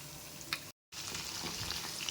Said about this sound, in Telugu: ఇప్పుడు ఆయిల్ హీట్ ఎక్కింది. ఇప్పుడు ఈ పీసెస్ని ఒక్కొక్కటిగా మనము ఇవి నూనెలో వేసేసుకుందాం.